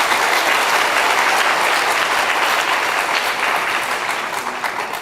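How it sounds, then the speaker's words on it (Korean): A Korean church congregation gives loud, sustained applause to glorify God after a healing prayer, a dense, close wall of clapping that thins slightly toward the end. "하나님께 영광의 박수 올립니다."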